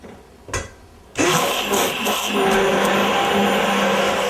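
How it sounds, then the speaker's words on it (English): A click, then a stick blender whirs to life and runs continuously with a loud, buzzing motor whine that wavers slightly. "if you've got a stick blender, why not use it?"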